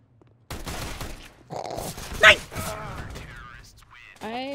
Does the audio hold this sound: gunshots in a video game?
yes